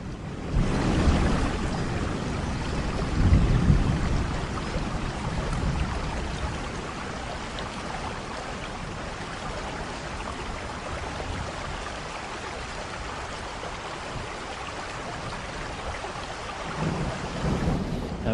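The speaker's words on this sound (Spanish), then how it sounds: "A ver si escampa la tormenta, porque está arreciando incluso." A thunderstorm with heavy rain that keeps strengthening: a dense, steady roar of downpour fills the whole stretch, with a low rumble of thunder swelling early on.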